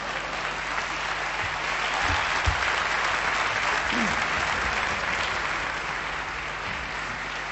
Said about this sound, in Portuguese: Uma salva de palmas para os extraordinários apresentadores desta cerimónia.